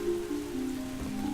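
Rain falling in the walking game Drizzlepath: a steady soft patter of drops on surfaces, heard briefly with low background tones beneath and no speech.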